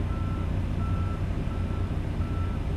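A truck's reversing beeper sounds in slow, regular pulses over a low, steady engine rumble.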